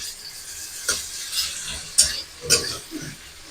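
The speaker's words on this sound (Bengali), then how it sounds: "লবণ দিয়ে আবার আমি নেড়ে দেবো" Soft sizzling of onions frying in a pan with a few scraping stirs, spaced about half a second apart, close and moderately quiet.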